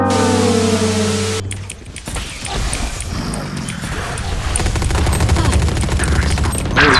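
Rapid bursts of gunfire in the game Valorant crackle in quick succession after a short tonal sound, with voices talking over the shooting.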